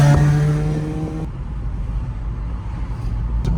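A VW Transporter diesel van drives along, its engine giving a low, steady drone with road noise, after a brief louder tonal whine at the start; no one talks.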